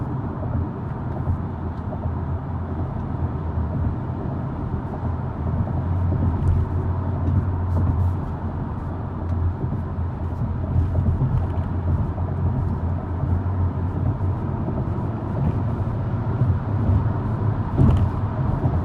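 A 2021 BMW X1 xDrive28i in sport mode on the highway gives a steady low engine and road rumble from inside the cabin, even and continuous with slight swells and no talking.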